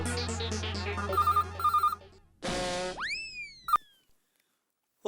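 A telephone rings in a Hindi comedy scene, electronic ringtone chirps repeating in a short rhythmic pattern over music, followed by a burst of noise and a springy boing-like sweep, then near silence.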